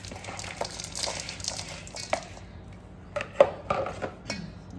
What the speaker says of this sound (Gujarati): ગોળને અને કેરીને મિક્સ કરી લઈએ.